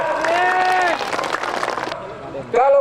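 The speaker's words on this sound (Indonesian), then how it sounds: "Tepuk tangan untuk Sarkanaa." A crowd at a campaign rally for Sarkanaa in Sidrap Regency breaks into applause and cheering, a dense wash of clapping blended with loud voices and a speaker over a PA.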